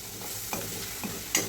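A spoon stirs tomatoes into a dried peas and potato curry in a hot pan, giving a faint sizzle with a few soft scraping strokes close by and no talk.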